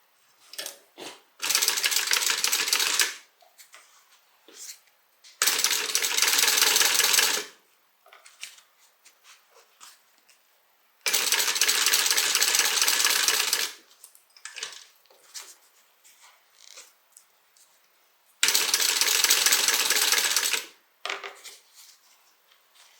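Sewing machine top stitching the upper lining of a handbag, four long bursts of rapid mechanical whirring separated by pauses with small clicks and fabric handling.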